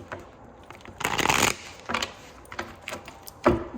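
Tarot cards shuffled by hand in a few close, soft bursts of papery riffling and rustling, with short quiet gaps between them and no talk.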